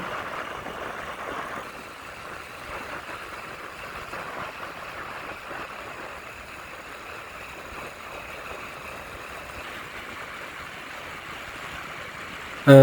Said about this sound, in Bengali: ফাঁকা রাস্তা থাকায় আমরা মোটামুটি একটু জোরেই গাড়ি চালাচ্ছিলাম